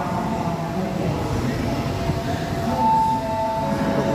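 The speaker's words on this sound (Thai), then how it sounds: "อันนี้ก็คือบริเวณสถานีหาดใหญ่นะครับ" Morning ambience at Hat Yai Junction railway station in Thailand: a continuous rumbling train with a brief tonal squeal partway through, under a busy background wash.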